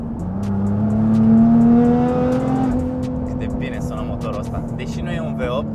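A 750 hp Nissan GT-R engine revs and pulls hard, a loud rising drone that climbs in pitch for about three seconds and then settles to a steadier tone, with people talking over it.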